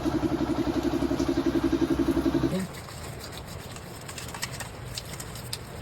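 Yamaha NMAX V2 scooter with an ABS problem, its engine running with a rapid rhythmic pulsing clatter up close for a few seconds before cutting to a quieter background hum.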